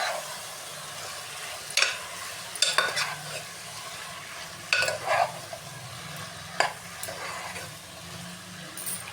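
A brinjal and potato curry gets stirred in a pan, with several sharp scraping strokes of the spoon at irregular intervals over a soft, continuous sizzle.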